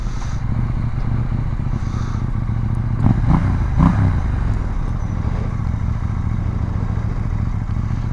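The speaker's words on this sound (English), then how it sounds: "it's a parallel twin, so you get that growl at the bottom" A KTM 890 Duke R parallel-twin engine growls steadily while the motorcycle is ridden, a low continuous drone with a few brief clattering bumps in the middle and no speech.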